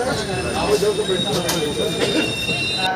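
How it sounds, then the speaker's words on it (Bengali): An Amrit Bharat Express train rolls slowly into a station while people board, giving a steady rumble of wheels with faint squeal under crowd murmur and voices. "ট্রেন এখনও থামেনি, তাও কিন্তু লোকজন উঠে পড়ছে"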